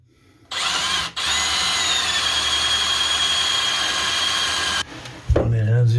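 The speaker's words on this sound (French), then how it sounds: "il faut juste que je vise comme il faut avec ma perceuse le trou de l'autre côté" A handheld power drill boring through a hole on a sailboat's chainplate area, running loud and steady for about four seconds after a brief start and a momentary stop, then cutting off before a voice speaks.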